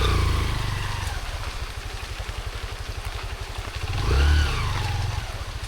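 A motorcycle engine runs steadily close by with a low, even putter, swelling briefly louder near the end as if revving or passing, with no talk over it.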